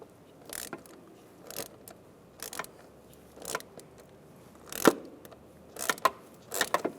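A tamper-proof star bit loosening screws on a Volkswagen Beetle's mass airflow sensor, heard as a series of close ratcheting clicks and scrapes in short separate bursts, with quiet gaps between turns.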